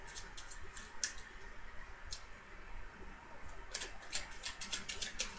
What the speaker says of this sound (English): I want to go ahead and just give it a quick shuffle.